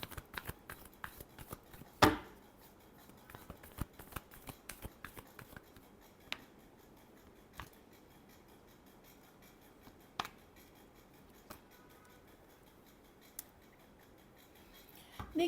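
Tarot cards being shuffled by hand: soft papery riffles and scattered light clicks, including one sharper burst early on, fairly close and quiet, with no voices.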